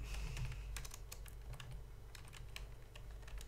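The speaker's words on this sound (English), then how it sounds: "I've never done so much typing" Rapid computer-keyboard typing, a quiet close run of uneven clicking keystrokes over a low background hum, with no voices.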